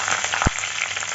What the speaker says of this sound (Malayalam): ഉലുവ ഇട്ടു, ഉലുവ പൊട്ടിക്കഴിയുമ്പോൾ ഇതാ കരുവേപ്പിൻ്റെ ഇല കുറച്ചിടുക